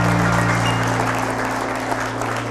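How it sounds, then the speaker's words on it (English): An audience at a Christmas concert applauds steadily, a dense, continuous patter of clapping filling the room at even loudness throughout. "Another round of applause."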